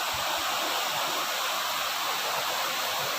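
Floodwater rushing through a flooded area, a steady broadband roar of churning water with no pauses, loud and close, running throughout with no voices.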